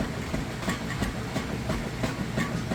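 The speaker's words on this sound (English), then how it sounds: "you can hear that agitator kick" Steady rhythmic churning and knocking of a Kenmore washing machine agitator, a repeating mechanical thump over a constant low rumble.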